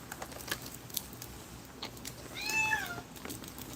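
A cat meows once in the background, a short rising-and-falling call over faint keyboard-like tapping and room noise, with no talking.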